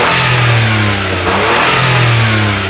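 A Smart car engine, an automatic with no clutch pedal, revs loudly and steadily up close, its pitch dipping briefly midway before rising again, with no voices over it.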